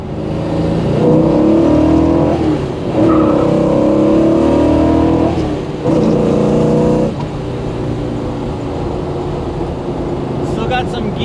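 A 1966 Pontiac GTO with a Tri-Power 389 V8 and exhaust cutouts open, a loud close rumbling roar that swells under acceleration in long pulls, then settles to a lower drone as the car cruises.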